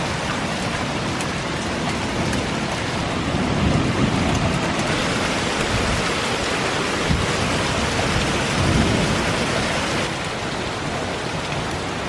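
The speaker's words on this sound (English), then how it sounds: "What is this giant stream coming from the gutter? That's not normal, right? It's raining." Steady rain falls outdoors in Toronto, with water streaming from a gutter in a continuous, dense, even hiss that holds at the same level from start to end.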